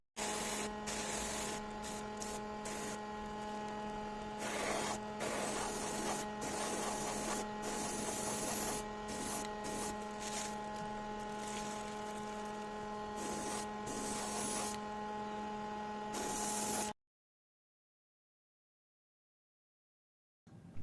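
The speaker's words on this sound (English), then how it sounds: "I will be airbrushing some slight layers of Tamiya smoke" An airbrush sprays light coats of Tamiya smoke paint onto model car tires, a steady close hiss over a constant compressor hum with brief interruptions as the trigger releases, then stopping into silence near the end.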